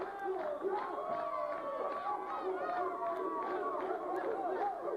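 A wrestling crowd at a Southeastern wrestling event roars with steady chatter, shouts and cheers, a dense and continuous wall of voices that holds at an even level throughout.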